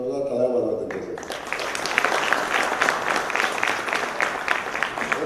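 A crowd at an election rally in Solapur breaks into loud, sustained applause right after a speaker's voice, the dense clapping continuing steadily to the end.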